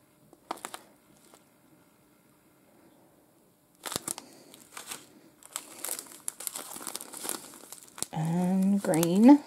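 Resealable plastic bag of fine glitter crinkled and handled in scattered light rustles and crackles with quiet gaps, followed by a brief stretch of voice at the end.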